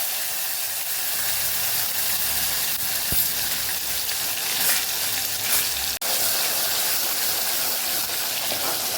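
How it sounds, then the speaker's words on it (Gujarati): Tomatoes hiss and sizzle as they hit hot tempering oil with fenugreek seeds, curry leaves and asafoetida, a steady loud frying noise with a few stirring clicks and no voices. "અને ટમેટાનો આપણે વઘાર કરી દઈશું"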